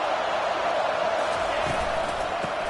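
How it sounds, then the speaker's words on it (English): A stadium crowd at a college football game between Alabama and Arizona gives off a dense, steady roar of cheering, with a couple of faint thumps low beneath it. "It's early, but this crowd is fired up. Listen to this noise here."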